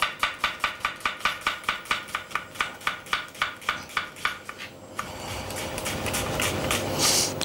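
A kitchen knife slices straight down through onions on a board in quick, evenly spaced chops, about twenty close crisp strikes, then gives way to a steady rising hiss.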